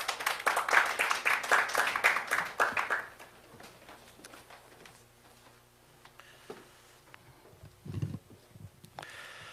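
An audience at the opening ceremony of the 2021 Data Sovereignty International Forum claps to welcome Gyeonggi Province Governor Lee Jae-myung, a lively burst of applause lasting about three seconds, then a quiet hall with a few scattered knocks and shuffles.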